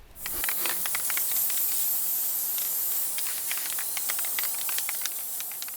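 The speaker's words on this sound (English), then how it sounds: "I am going to need to put a spray adhesive on it" A steady hissing blast of spray adhesive from an aerosol can, continuous and loud at close range, with faint crackles mixed in and no pauses.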